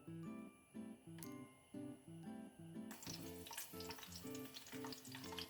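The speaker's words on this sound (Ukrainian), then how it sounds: "розтоплюватись сало і м'яско" Lard and small pieces of meat and fat frying in a hot pan, a loud, close, continuous sizzle with crackles that grows brighter partway through, broken by repeated rhythmic stirring or scraping and no speech.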